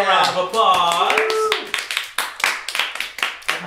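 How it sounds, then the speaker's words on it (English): A few people clap in uneven bursts after a Star Wars role-play session, the claps sparse and close. Overlapping voices and laughter fill the opening second and a half. "Give yourselves a round of applause."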